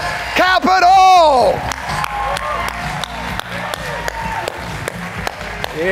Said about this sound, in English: can we all give a big round of applause